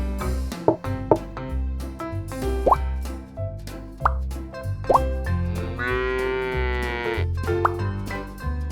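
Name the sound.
cow mooing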